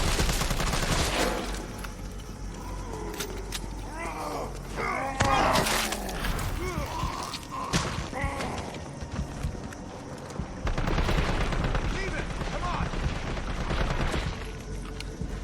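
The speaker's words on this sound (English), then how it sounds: "I only kept shooting him out of spite" Gunfire in the Resident Evil 3 Remake video game outside the police station, with loud bursts of shots clustered early and again near the end over dense game sound effects.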